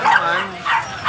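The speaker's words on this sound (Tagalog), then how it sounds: "Yung mga aso ni Kuya Chris, pag nakita niyo po sa actual," Belgian dogs at a pet market bark and yip loudly in short bursts close by, with a whimpering edge between barks.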